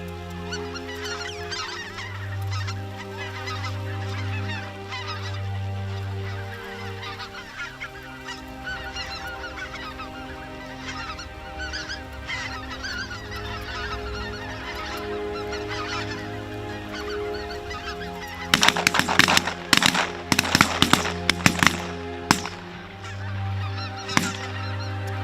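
A flock of geese honks loudly and repeatedly during a waterfowl hunt, their calls overlapping throughout, and a burst of sharp, loud bangs breaks in near the end.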